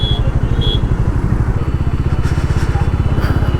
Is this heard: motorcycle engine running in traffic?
yes